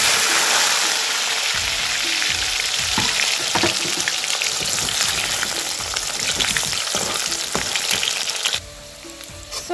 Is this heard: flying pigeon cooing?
no